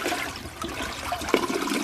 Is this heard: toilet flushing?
yes